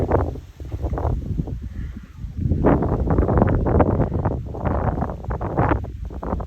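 Strong wind gusts buffet the microphone with a continuous low rumble that swells and eases in waves.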